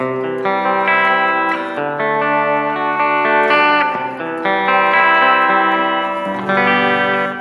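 Clean-tone electric guitar chords ring through a Bugera G5 Infinium amp drenched in reverb, sustained notes blooming and trailing off between strums, loud and steady with no voices.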